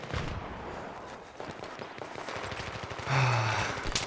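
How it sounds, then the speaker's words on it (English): Rapid bursts of gunfire from the Battlefield 3 close-quarters map Donya Fortress, dense and continuous with sharp repeated shots, one heavier close burst near the end, over a constant bed of game noise. "Oh, getting shot in the back."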